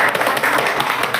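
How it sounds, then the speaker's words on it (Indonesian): Children clap together in a classroom, a quick burst of overlapping close hand claps lasting about a second. "Tepuk tangan dulu anak-anak."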